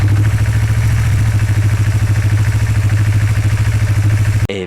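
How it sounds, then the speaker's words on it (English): A motorcycle engine idles steadily and close by, a low rhythmic putter that holds for several seconds before cutting off abruptly at the end. "switching on the engine and let it run until the pipe gets hot"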